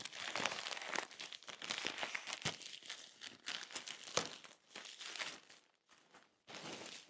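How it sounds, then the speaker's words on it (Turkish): A plastic cargo mailer holding a goose down jacket is torn open by hand, with close crinkling and ripping of plastic in irregular bursts, a brief pause near the end, then more rustling; no speech. "Şimdi bu şekilde gelen kargoları genelde yırtarak açıyoruz."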